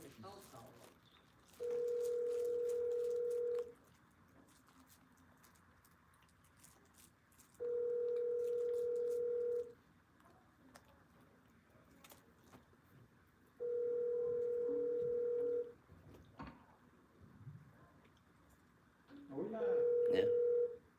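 A telephone call rings out before going to voicemail, four evenly spaced two-second ringback tones with quiet gaps between them, faint room noise underneath and a voice near the end.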